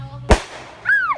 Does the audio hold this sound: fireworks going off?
yes